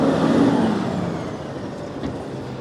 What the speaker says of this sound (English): And the garbage truck has always got to stop and